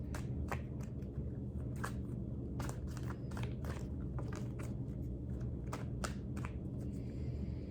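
Tarot cards are shuffled in quick riffling bursts and soft slaps, repeated at irregular intervals over a steady low background hum.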